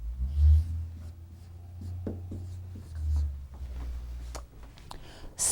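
Marker squeaking and scratching on a classroom whiteboard in short strokes, quiet and close, with a few tapping contacts between letters.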